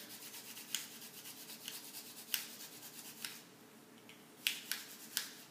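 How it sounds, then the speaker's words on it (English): Fresh ginger is rubbed over a kitchen grater, making a soft, quiet scraping that repeats in short strokes. Faint sharper scrapes stand out now and then. "I'm adding some nice grated ginger, and I'm getting a lot of the ginger juice in here."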